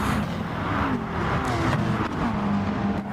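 Mercedes and Porsche race cars in a racing video game roar past with continuous engine drone and shifting revs. Several cars overlap at full throttle with no voices.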